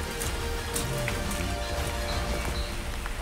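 Steady rain pattering on surfaces outdoors at an old fort, a continuous close hiss of drops with no voices.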